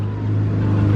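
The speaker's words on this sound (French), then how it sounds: "Là-bas il y a une autre F8 Spider qui est en train de partir de devant l'hôtel de Paris" A Ferrari F8 Spider pulls away in front of the Hôtel de Paris in Monaco, its engine a low, steady drone that grows slightly louder over one brief second, with no talking.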